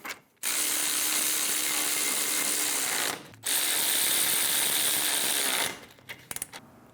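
Power tool snugging caliper bracket bolts on a 2001-2006 Chevrolet Silverado 2500, two loud sustained buzzing bursts with a short break between them, followed by a few faint metallic clicks, close and without talking.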